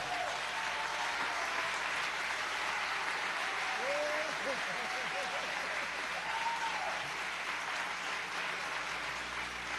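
A concert audience applauds two percussionists, continuous dense clapping at steady volume throughout, with a voice speaking faintly underneath.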